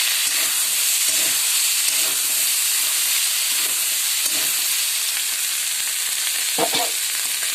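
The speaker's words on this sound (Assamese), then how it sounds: "এতিয়া আলুখিনি মাংসৰ লগত অলপমান লৰাই ল'ম।" Cut potatoes fry with pork and pig ear in a hot pan, giving a constant loud sizzle broken by occasional scraping stirs of the spoon.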